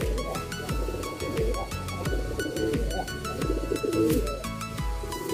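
Racing pigeons cooing in a loft, soft low rhythmic coos repeating steadily and close, with a few chirps over a faint background.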